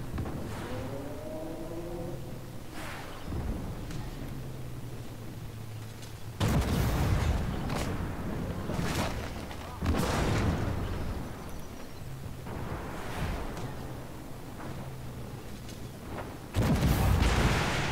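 Tanks trade fire in the video game Armored Warfare: repeated heavy cannon booms and explosions land at irregular intervals over a steady rumbling battle din, some blasts close and loud, others more distant.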